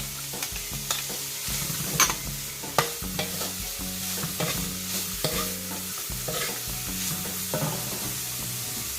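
Carrots are stirred into fried rice with shrimp in a hot pan, with continuous scraping and tossing strokes over a loud, busy sizzle, with no talking.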